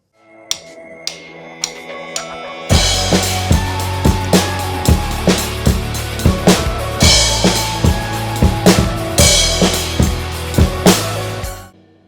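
A drum beat for a song's intro begins with a few sparse hits, then a full kit kicks in with steady kick, snare and cymbals in a driving, repeating pattern.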